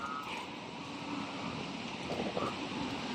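Strong, steady wind roaring during a typhoon outdoors, a continuous loud rushing gust noise with no clear breaks.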